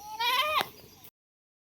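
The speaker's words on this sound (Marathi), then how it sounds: "शेळ्यांचा काला चालू आहे" A goat gives one short, close bleat that wavers, followed by a brief rustle and then silence.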